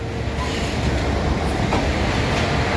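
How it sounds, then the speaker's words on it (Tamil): Steady rumble of a train rolling into a railway station, with continuous low mechanical noise and faint rail clatter throughout. "ட்ரெயின் வந்துட்டுருக்கு"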